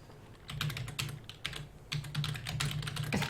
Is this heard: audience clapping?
no